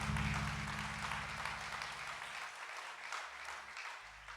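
A congregation applauds in a church, a faint, steady patter of many hands over low background noise that slowly fades, with no one speaking over it.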